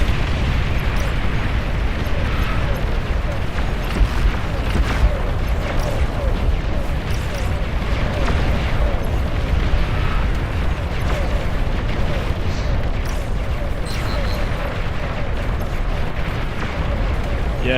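A commander unit exploding amid a Beyond All Reason battle, with steady booming explosions and artillery-like thuds in a thick, unbroken wall of combat noise, under faint voices.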